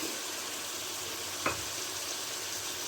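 Mixed vegetables fry on a high flame, giving a continuous even sizzling hiss up close, with a single brief clink partway through.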